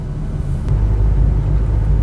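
A Honda Brio 1.2 engine drones loudly and steadily with a deep rumbling roar, rising slightly in intensity as it holds high revs near 7,000 RPM.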